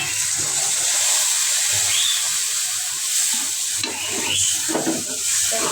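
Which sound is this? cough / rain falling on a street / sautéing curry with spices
sautéing curry with spices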